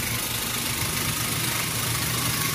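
The motor of a gun-shaped carpet tufting tool runs in a steady, even buzzing hum with a low vibrating rattle, close and alone.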